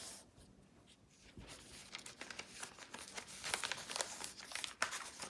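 Quiet crinkling and rustling of paper being folded into a small flower pot, with soft creases and light scrapes building in density, close up and fairly faint.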